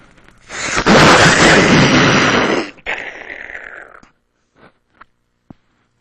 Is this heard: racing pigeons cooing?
no